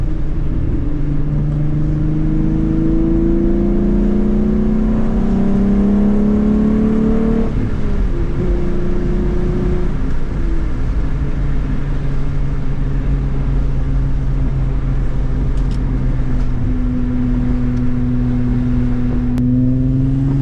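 A car is driven on a short trip, its engine rumbling steadily and rising and falling in pitch as it accelerates and shifts, with continuous road and cabin noise throughout and no voices.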